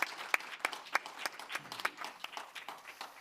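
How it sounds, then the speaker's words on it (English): A security conference audience gives a short burst of applause for a panel, scattered claps at moderate volume that thin out over a few seconds. "give them a round of applause"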